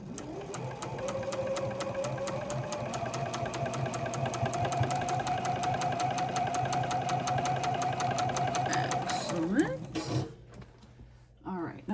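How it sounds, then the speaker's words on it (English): A sewing machine stitches fabric triangles together for a quilt block, its needle running in a steady, fast mechanical rhythm for about nine seconds before stopping abruptly, with no talk over it. "I'm going to iron and then sew the triangles"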